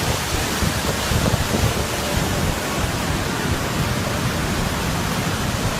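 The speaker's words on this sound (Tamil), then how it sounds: "மழை காலங்களில் இந்த ரோடு இப்படி தான் வாட்டர் ஃபால்ஸ்னால கவர் ஆகி இருக்கும்." Water pours like waterfalls over a mountain road in Nepal's Manang district, a loud, continuous, broadband roar of rushing water with no voices.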